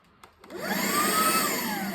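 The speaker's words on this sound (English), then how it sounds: "This is another vacuum cleaner. It's battery powered." A battery-powered vacuum cleaner switches on with a click and its motor whines up to a loud, steady hum that holds alone.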